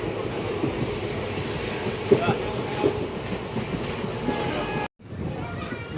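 A passenger train running from Lathi toward Sihor and slowing near Dhasa junction gives off a steady, close rumble and clatter inside the carriage, with a brief drop before the rumble resumes.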